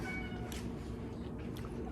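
A cat meows faintly once or twice in a quiet room with a low background hum.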